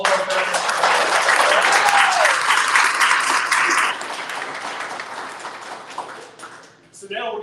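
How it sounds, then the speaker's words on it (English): A live audience at a Founders Live Center Stage event in Dallas applauds for several seconds, dense, steady clapping that gradually thins out before a voice starts speaking at the end. "let's take one more round of applause"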